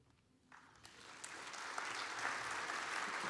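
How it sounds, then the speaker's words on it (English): Audience applause at a festival program launch, starting faint and swelling into a dense, steady roar of clapping from a large crowd. "This is applause."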